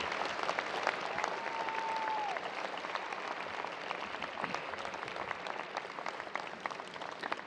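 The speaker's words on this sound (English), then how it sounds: "please give them a giant round of applause" A university commencement crowd claps for their supporting families and loved ones, a broad, steady applause filling the hall from many hands, moderately distant, with a faint tone briefly passing near the start.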